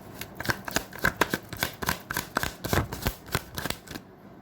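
Tarot cards are shuffled by hand, a close, steady run of quick riffling snaps and soft flicks that stops abruptly.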